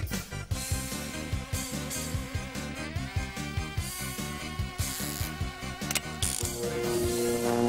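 A cartoon monster-making machine churns away with whirring gears, clanking ratchets and rhythmic mechanical pulses, loud and steady over nearly eight seconds, rising slightly in pitch toward the end, with no talk.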